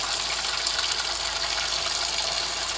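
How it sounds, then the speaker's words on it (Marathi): Clams being washed in water, heard as a steady, close rush and splash of water with no voices. "शिवल्या चांगल्या पाण्याने धुवून घ्यायच्या 4 वेळा."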